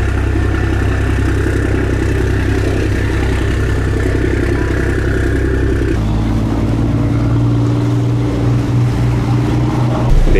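Steady low engine drone of a boat running continuously in Cambodia, loud and close, with a shift in pitch midway as the motor changes speed.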